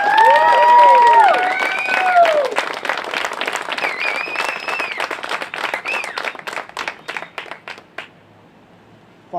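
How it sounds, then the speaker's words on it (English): A crowd at the Southern New England Brotherhood Ride 2018 breaks into applause with whoops and cheering, loud at first with high shouts and whistles, then clapping thins and fades away near the end. "can we get an extra round of applause?"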